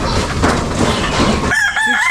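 A Boston over white jacket gamefowl rooster, about six months old, crows loudly and close by in one long continuous call that shifts to a higher, strained tone near the end.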